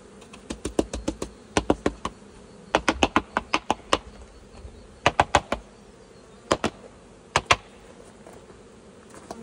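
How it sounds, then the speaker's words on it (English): Honey bees buzzing near a hive as they are swept off a frame, under a string of sharp close brush strokes and taps that come in irregular bursts. "Sweep off the last remaining bees there."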